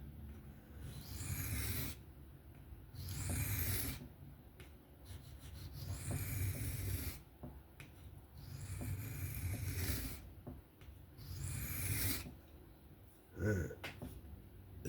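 A knife with a contoured micarta handle drawn repeatedly across a Tempest Knives MicroBurst sharpener at about 15 to 16 degrees, a rhythmic rasping stroke every second or two, close and clear.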